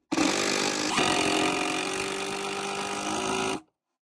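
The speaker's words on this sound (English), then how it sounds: "I'm gonna attach it with some 3-inch screws." A power drill drives a 3-inch screw into a wooden top box in one loud, continuous whirring run of about three and a half seconds before cutting off into silence.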